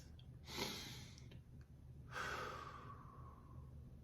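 Two slow, audible breaths, a soft inhale followed by a longer, airy exhale that trails off gently, quiet and close with no speech over them.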